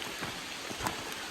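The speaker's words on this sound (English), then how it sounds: "it's pouring down rain." Heavy rain pours down outdoors in the Pennsylvania woods during a muzzleloader deer and bear hunt, a steady loud wash of drops with no voices.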